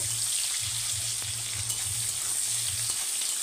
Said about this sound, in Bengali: এখন আমি এখানে দিয়ে দেব কুচিয়ে রাখা পেঁয়াজগুলো ভাজি করে নেব।